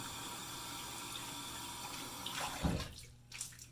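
Tap water runs steadily into a shave bowl, rinsing out leftover lather, with a louder splashing surge near the end as the stream hits the bowl.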